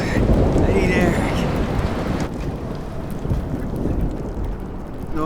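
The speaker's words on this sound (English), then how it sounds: "No more storms." Thunderstorm with heavy rain in the video game Life is Strange: Polarized, a dense continuous roar of rainfall with rumbling thunder underneath, loud and enveloping throughout.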